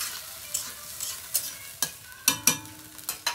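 Small-fish curry with potato and eggplant simmering in a pan after water is added, a soft sizzle under a series of sharp spoon scrapes and taps against the pot.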